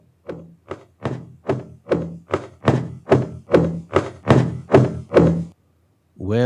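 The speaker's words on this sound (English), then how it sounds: "The sounds of the quick, thumping footsteps behind were indicative of the lizard following me." Quick, heavy footsteps thump in a steady run of about a dozen, growing louder as they approach. They are dry and close with no other sound, then stop abruptly before a final brief noise.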